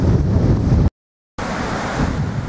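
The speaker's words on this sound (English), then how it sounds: "the sound of the wind will be drowning out the sound I make" Strong wind blows outdoors on a hillside hiking trail, a loud continuous roar buffeting the microphone, broken by a brief dropout of silence.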